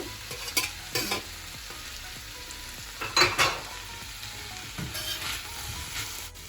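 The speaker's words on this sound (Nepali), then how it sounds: "अघि मैले काटेर राखेको spring onion, green pepper, red pepper र येलो पेपर राख्दैछु।" Spring onion with green, red and yellow peppers stir-frying in a pan, a steady hiss of sizzling broken by several louder bursts of stirring and scraping, close and with no voices.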